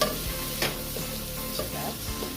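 Pumpkin pieces sizzle in a hot pot of Jamaican seasoned rice, with a steady frying hiss and spoon scrapes and stirring knocks throughout, close and moderately loud with no talking.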